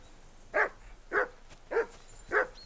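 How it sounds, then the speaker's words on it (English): A dog in the medieval game Kingdom Come: Deliverance II barks four times at an even, slow rhythm, each bark sharp and clear against a quiet background with no talk. "Whistle at that mutt of yours to stop barking!"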